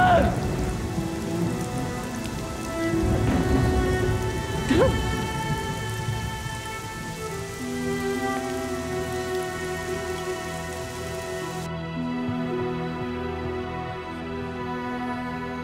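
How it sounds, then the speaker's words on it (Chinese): Steady rain falls on surfaces with a constant patter throughout, and a few louder drop impacts come early on. "下雨了，你快去躲躲雨啊！"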